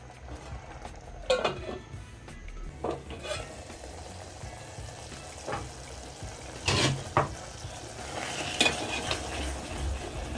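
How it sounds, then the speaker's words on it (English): Omena fish simmering in a pot give a low bubbling hiss, broken by occasional clinks and scrapes of a utensil against the pot. "I'm going to let this simmer for about 5 minutes and our fish will be ready"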